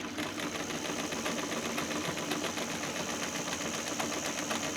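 A sewing machine stitches a tote bag seam, with backstitching at the ends, running as a steady, fast mechanical whir with rapid even ticking throughout, close and unbroken, with no voices.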